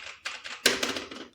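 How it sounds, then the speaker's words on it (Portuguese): Keys clacking on an MSX computer keyboard, a short run of sharp taps with one louder strike midway, close and clear with no talk. "deixa eu ligar aqui o teclado"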